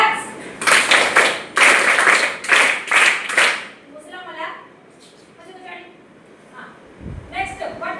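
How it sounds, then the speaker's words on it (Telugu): A class of students claps in several quick rounds of brisk applause, close and loud, then fades into quieter room sound with a few stray taps. "క్లాప్స్."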